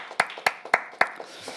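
A few people clap at a Korean church healing meeting: four sharp, evenly spaced claps stand out clearly, with a couple of softer ones trailing after them in a quiet room.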